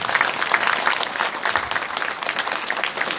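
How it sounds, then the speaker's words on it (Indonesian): An audience applauds at an istighosah Islamic prayer gathering: dense, steady clapping from many hands that fills the whole stretch evenly, with no voices over it. "Tepuk tangan dulu beliaunya."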